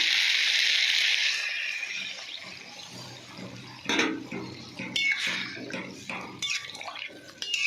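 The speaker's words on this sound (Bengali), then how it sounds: "এবার জল ঢেলে দেবো আমি" Water pours into a pan of fish curry in a steady hissing stream that fades out, followed by bubbling and the irregular scrapes and clatter of stirring close by.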